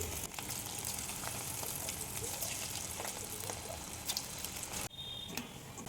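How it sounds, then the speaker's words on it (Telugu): Idli batter fritters (punugulu) dropped into hot oil in a kadai for deep frying, giving a steady, close bubbling sizzle that runs throughout with a brief dip near the end. "ఆయిల్ హీట్ అయిన తర్వాత ఇలా పునుగుల్లాగా వేసుకోవాలండి"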